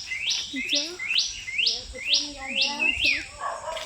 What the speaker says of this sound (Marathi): इथे आल्यानंतर पक्ष्यांचा आवाज आहे का किती छान आहे